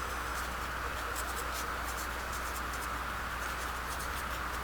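Pencil writing by hand on a worksheet gives a continuous soft scratching with quick strokes, close up under a steady low hum, with no talk.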